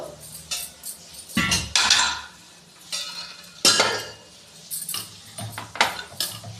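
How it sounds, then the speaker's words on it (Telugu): Several sharp metallic clanks and scrapes as a wok is set down and shifted on a stovetop, close by, with short quiet gaps between. "పోపుకు కడాయి పెట్టుకుంటున్నా"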